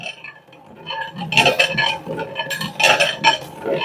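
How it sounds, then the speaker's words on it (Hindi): A spoon clinks and scrapes against a cup or pot while stirring pink Kashmiri tea with cream, making repeated bright metallic rattles in bursts. "क्रीम शामिल करने के बाद हम इसको अच्छे तरीके से मिक्स कर लेंगे"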